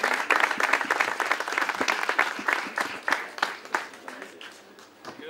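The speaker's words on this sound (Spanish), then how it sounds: "ese fuerte aplauso a Diego Oceja," Applause for Diego Oceja, fourth-place youth finisher at a bolos trophy ceremony in Santander, a crowd clapping steadily with dense sharp claps that thin out toward the end.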